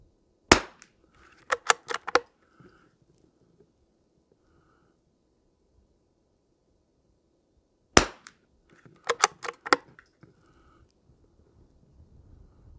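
Rifle shots from a .22LR rifle firing Lapua ammunition: two loud, sharp cracks several seconds apart, each followed by a quick burst of clicks and echoes, then quiet.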